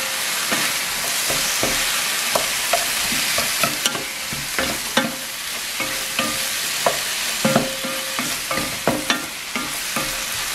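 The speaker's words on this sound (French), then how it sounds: "Alors j'ajoute ensuite donc les oignons. Je mélange." Onions sizzling in a hot pan, steady frying hiss broken by regular scraping and clinking strokes of a spoon stirring them, close and fairly loud, no talking.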